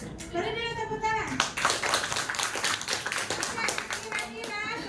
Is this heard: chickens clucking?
no